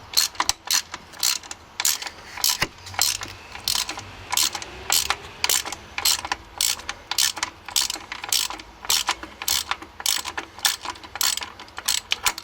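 Ratchet wrench being worked on the drive belt tensioner of a BMW Z3 or Z4 engine, heard as rapid, crisp, repeated clicking in rhythmic bursts, close and clear, with short pauses between strokes.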